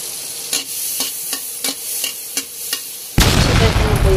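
Chicken adobo and garlic frying in oil, starting with a series of regular stirring scrapes over a low sizzle, then breaking into a loud, dense crackling sizzle.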